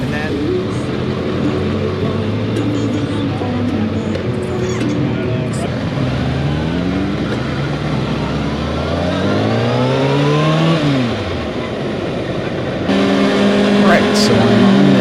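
Kawasaki ZX-6R sport motorcycle engine rising and falling through gears while riding, a high revving whine with climbing and dropping pitch, close and loud, with a rider talking over it.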